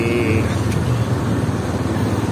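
Motorized pedicab (becak motor) riding through busy traffic, a loud continuous engine drone and road rumble close by, with no speech.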